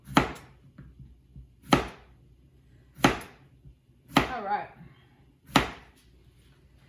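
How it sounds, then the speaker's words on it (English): Knife chopping vegetables for pickle chips on a cutting board, five sharp, evenly spaced chops about every second and a half, close and clear, with a brief spoken remark. "I'm sure Gordon Ramsay would have something to say about the way I chop stuff"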